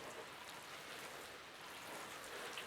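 Water pours from a watering can onto freshly potted taro plants, a soft, even, hissing patter that runs steadily throughout at low volume, with no voices.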